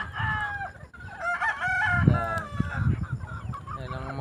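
On a backyard farm, a rooster crows in repeated calls over close clucking from a flock of chickens.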